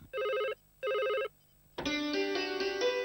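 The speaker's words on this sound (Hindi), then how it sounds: "फिर फोन। जाओ देखो।" A household telephone rings twice in a steady electronic trill with a pause between, then a louder, tonal ring bursts in and carries on to the end, indoors and alone.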